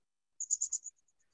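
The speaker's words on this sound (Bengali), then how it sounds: "এই স্যার ওই যে ঝিঝি একটা পোকা শব্দ," A cricket gives a brief, high, pulsed chirp of four quick bursts followed by a few fainter trailing clicks, thin and isolated against silence.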